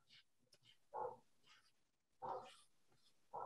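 A small dog barks three times at a distance, short sharp yaps separated by pauses, with faint background noise in between.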